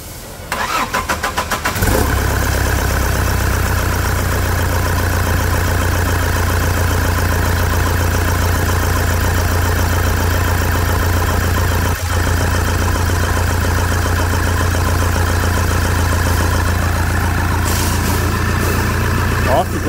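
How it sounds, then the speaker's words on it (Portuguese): A Toyota Hilux engine, just overhauled after more than 500,000 km, cranks briefly and catches, then settles into a loud, steady idle that runs close and unbroken for the rest of the stretch. "Vamos começar a partida desse motor agora?"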